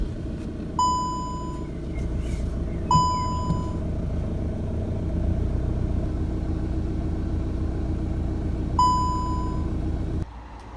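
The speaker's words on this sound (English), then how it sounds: "what I plan to do now is run the engine for a short period, maybe a minute or two" A 2017 VW Golf Mk7 GTD diesel engine idling steadily to warm the oil, a low continuous rumble with three short electronic beeps over it before it cuts off.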